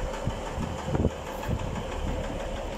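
A heavy two- or three-coach train rumbles through Bulwell tram station on NET Line 1, a steady low engine drone with a few louder thumps, fairly close and continuous with no voices.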